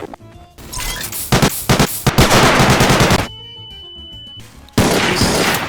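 Loud, rapid bursts of gunfire in the Garry's Mod video game crack out in quick volleys, fall silent for over a second, then resume with another heavy burst.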